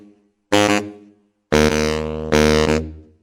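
Broadway Gig sample library brass-like notes: a short punchy sforzando blast, then a longer sustained note and a clipped short one, loud and close with silence between.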